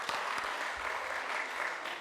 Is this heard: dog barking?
no